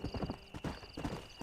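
Horse hooves clip-clop in a quick, steady gallop rhythm in the game Red Dead Redemption, close and moderately loud, with no talk over them.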